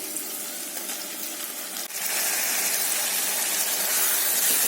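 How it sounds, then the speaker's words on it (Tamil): Tomatoes go into hot oil for a mushroom curry: a steady sizzle swells into a louder, continuous frying hiss that carries on alone. "இப்போ தக்காளி சேர்த்திடலாம்."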